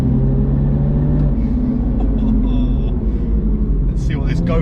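A Mini JCW GP3 with a 306 horsepower engine on a track, its low steady engine drone rumbling loudly and continuously, with light higher rattles and squeaks near the end.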